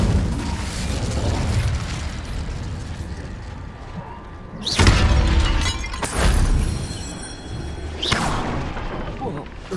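Incendio fire spell from Hogwarts Legacy, cast at battered rocks: sharp bursting whooshes and crackling blasts erupting several times over a rumbling game background, with a voice speaking briefly.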